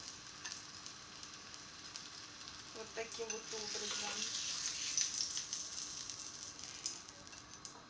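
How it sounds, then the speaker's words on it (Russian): A quiet, steady sizzle of sliced zucchini frying in a pan, rising a little midway, while a person speaks briefly. "кладем уже на сковороду следующую партию наших кабачков, уже нарезанных."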